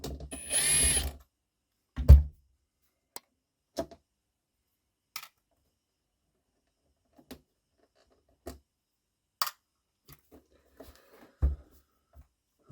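A screwdriver or small power driver backs screws out of an iRobot Roomba S9+ cleaning station with a broken lever, in a few short separate bursts with quiet pauses between them.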